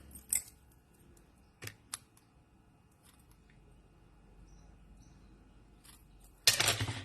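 Scissors trimming a small piece of paper for a handmade card: a few quiet, crisp snips spaced apart, then a brighter rustle of paper at the end.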